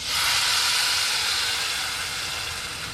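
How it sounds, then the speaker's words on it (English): Green salsa is poured into smoking-hot oil in a pan, giving a loud, steady, broad hissing sizzle that holds throughout and eases slightly toward the end, with no voices. "So what we're going to do is we're going to fry our salsa."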